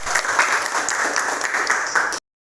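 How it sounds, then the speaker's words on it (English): A classroom of students claps together in dense, even applause for about two seconds before it cuts off abruptly, close and fairly loud. "Okay, give applause for your."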